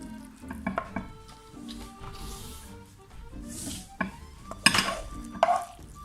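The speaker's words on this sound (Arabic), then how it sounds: "غادي نشحرها فيها حتى تنشف من الماء" Chopped, washed spinach is stirred in a pan until dry, with soft scraping, stirring and light sizzle plus occasional sharp clinks of a utensil against the pan, close and fairly quiet with no talk.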